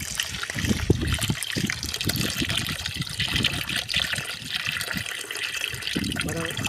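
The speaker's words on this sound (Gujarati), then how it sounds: "પછી આમાં ચોખ્ખું પાણી લેવાનું" Clean water runs and splashes steadily into a pot, a continuous trickling gush with a voice talking faintly underneath.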